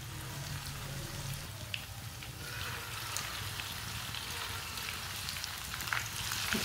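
Aloo palak pakoras frying in a small amount of hot oil, giving a steady, dense sizzle that carries evenly from start to finish, with no talk.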